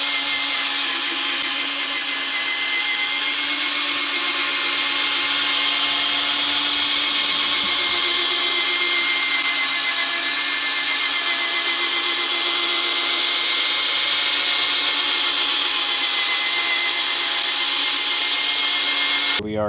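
Power drill spinning a polishing pad against a Toyota Sequoia headlight during a headlight restoration, a loud, continuous high-pitched whine that holds steady for nearly twenty seconds and cuts off abruptly at the end.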